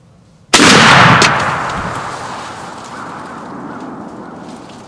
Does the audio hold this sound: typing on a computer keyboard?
no